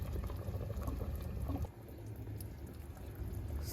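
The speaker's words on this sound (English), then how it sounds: "now I'm boiling the cow" Cow liver simmers in a pot of water, giving a steady, dense bubbling and rumbling boil throughout with no talking.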